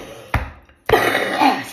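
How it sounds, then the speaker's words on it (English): A harsh, raspy cough comes as two sharp bursts, the second longer and trailing into a rough, breathy tail, close and loud. "It's a death cough."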